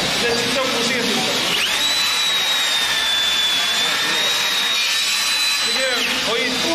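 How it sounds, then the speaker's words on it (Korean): A Hilti Nuron cordless vacuum cleaner runs loud and close with a continuous high whine that holds steady and dips slightly in pitch, while someone talks over it. "가지고 있는 제품이 아까 이미 보셨겠지만 무선 청소기입니다"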